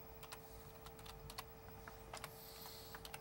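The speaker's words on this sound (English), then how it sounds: "While Alfred is typing it in" Keystrokes tapped on a computer keyboard in irregular bursts, faint against a steady electrical hum and room noise, with no voices.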